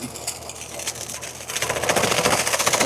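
A Farmtrac 6055 WorldMaxx 4WD tractor of 55 HP runs a banana shredder off its PTO under full load, a rapid rhythmic mechanical clatter that grows louder and denser halfway through and stays close.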